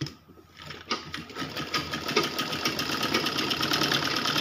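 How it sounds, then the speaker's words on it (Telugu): A sewing machine runs steadily, stitching fabric around the edge of a piece, with a fast mechanical chatter that starts softly and grows louder and continuous, no talking over it. "ఇలా కుట్టిన తర్వాత దీన్ని ఈ విధంగా వేసుకొని ఇలా చుట్టూ కుట్టుకుంటూ రావాలి."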